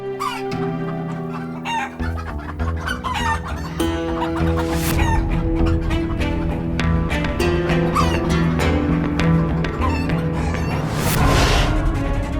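A rooster clucks and crows over a steady backdrop of music in a Hindi TV drama scene, its calls repeating up close throughout with no talking.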